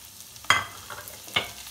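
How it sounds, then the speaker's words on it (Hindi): Vegetables are added to melted butter in a pan, producing two short sizzling bursts with soft stirring noise between them. "बटर मेल्ट हो चुका है। अब हम ये सब्जी इसमें डाल लेंगे।"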